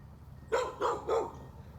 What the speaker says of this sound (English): It's just me getting attacked by dogs while I'm looking at broadwings.